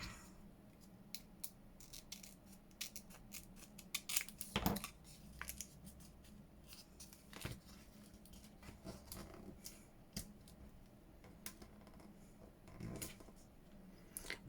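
Scissors snipping paper for junk-journal flip-out inserts, a sequence of soft, close cuts with one louder snip, quiet and intimate with light handling rustle in between.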